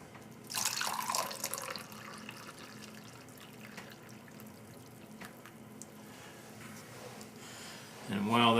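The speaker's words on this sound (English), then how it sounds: "Here we have hot water for the tea." Hot water pours steadily into a cup over tea bags for several seconds, a soft continuous splashing that starts abruptly and carries on at an even level.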